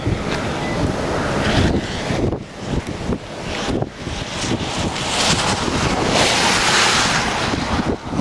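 Roar of a multi-vortex tornado in open Oklahoma country, heard as a steady, loud broadband rush like heavy wind and surf that swells and dips without a break across the whole stretch, with no voices.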